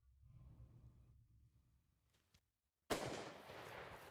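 A single rifle shot fired at a water buffalo from about 500 yards in the Australian outback cracks out loudly after a brief hush, its blast rolling into a long, fading outdoor echo.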